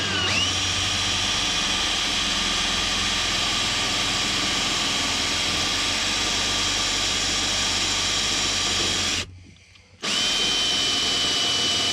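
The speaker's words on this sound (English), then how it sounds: "I have to increase the power because the drill it's not strong enough otherwise" Power drill boring a hole into the body of a Mitsubishi Delica L400 van, a steady loud continuous whine with no talk, cutting out briefly near the end before resuming.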